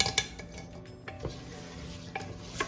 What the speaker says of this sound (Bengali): এখন এই মশলার সাথে চালটাকে ভালো করে ভেজে নিব